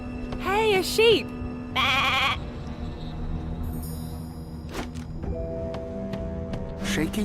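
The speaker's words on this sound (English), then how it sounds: "Hey, a sheep!" Sheep in the game Divinity Original Sin 2 give several loud, wavering bleats close by, separated by pauses over about seven seconds, with game tones and faint background sounds between them.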